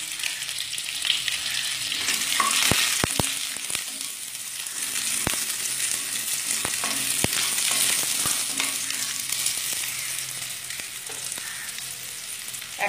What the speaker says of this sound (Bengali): একসাথে আলুর সাথে একটু নেড়ে নিচ্ছি